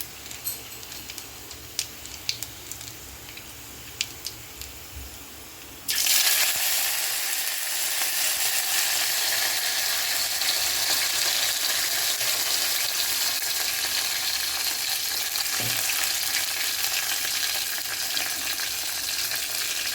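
Garlic hits hot oil in a pan for tempering and breaks into a loud, steady sizzle close by. Faint clinks come first, then a sudden burst of frying that keeps going without a break.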